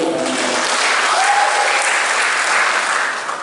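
A congregation at a Toraja church Christmas service bursts into steady, dense applause that stays loud and even for several seconds before easing slightly at the end.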